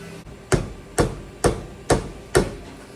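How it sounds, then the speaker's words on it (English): Five sharp mallet whacks on a car engine part being knocked loose, evenly spaced about half a second apart, loud and close in a quiet shop. "It's probably gonna take a couple of whacks with a mallet"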